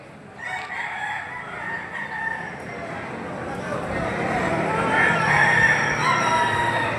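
Roosters crow repeatedly amid a busy, noisy chicken market in Padre Garcia, Philippines, with people talking in the background and steady crowd noise throughout.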